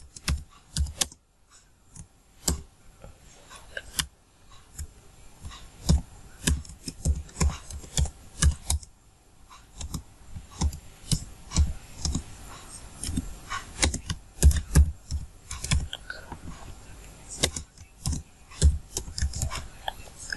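Keystrokes tapping on a computer keyboard while entering a location into an Excel spreadsheet, in irregular bursts of close, crisp clicks with short pauses and no talking.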